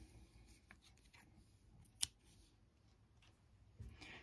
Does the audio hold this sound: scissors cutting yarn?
yes